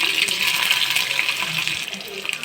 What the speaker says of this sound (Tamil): நல்லெண்ணெய் காஞ்சதும் கடுகு சேர்க்க வேண்டும். கடுகு பொரிந்ததும்